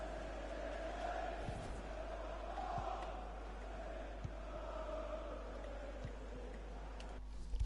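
Steady crowd roar from a FIFA 21 football match, Leicester City against Aston Villa, a broad continuous cheer held at an even level throughout, with no speech over it.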